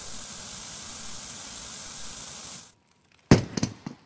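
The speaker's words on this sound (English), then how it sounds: "spray the hell out of it." A steady, loud hissing spray runs for nearly three seconds while a gun sits in a vise for repair in the VR game Into the Radius, then cuts off, followed by a few sharp metallic clatters.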